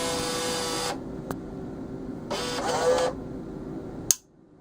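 Bill acceptor on a cigarette vending machine drawing in a banknote, with two bursts of motorized whirring separated by a pause, small clicks, and a sharp click at the end.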